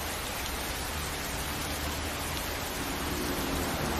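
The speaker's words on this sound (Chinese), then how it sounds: "现在下雨了，咱们先在这躲一会儿" Rain falls steadily outdoors in a city, a constant even hiss of drops with no change in intensity and no voices.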